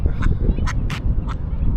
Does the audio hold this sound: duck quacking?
yes